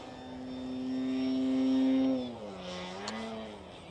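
A fast RC scale model airplane passes at full throttle, its engine whine building to a loud steady tone close by, then dropping in pitch as it moves away.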